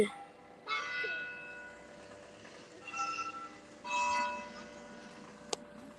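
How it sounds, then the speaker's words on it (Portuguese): A church bell in Évora, Portugal, rings out in a few separated strikes, faint and distant, over quiet background noise. "O sino a tocar."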